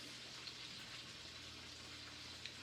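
Mushrooms and scallion whites frying in a pan give off a soft, steady sizzle. It continues evenly throughout, with a couple of faint clicks, and no one speaks.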